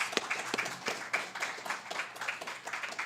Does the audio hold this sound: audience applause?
yes